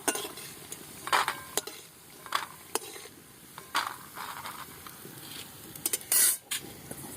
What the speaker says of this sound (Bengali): এখন ভেজে নেব লাল লাল করে। ভেজে নিয়েছি, তুলে নেব।